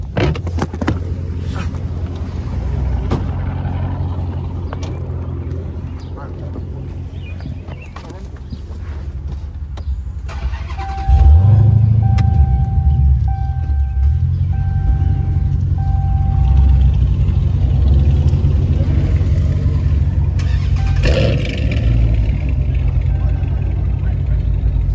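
A Dodge Challenger Hellcat Redeye with its doors removed, parked at home, turns over and settles into a deep, loud rumbling idle, with a chime and people talking nearby.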